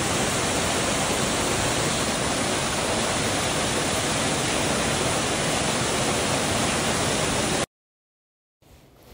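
Waterfall near Helen, Georgia, a loud, steady broadband roar of rushing water heard alone, cutting off abruptly near the end.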